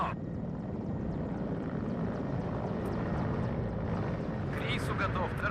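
A recon helicopter drones steadily in the WARNO real-time strategy game, a continuous low rotor and engine hum held at even loudness with a brief brighter flutter near the end.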